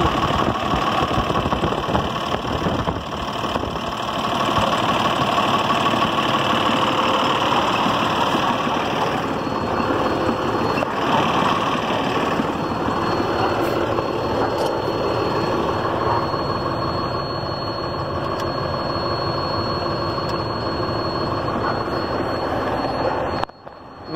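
Cummins ISL 400 diesel engine in a Volkswagen Constellation 26.390 truck running steadily at idle, a loud close continuous rumble with a faint ticking knock, and no talk throughout.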